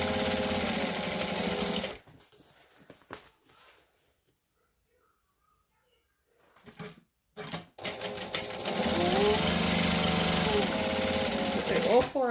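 A sewing machine runs in fast mechanical bursts while backstitching fabric, loud and close, with a stretch of near silence and soft handling noises between runs.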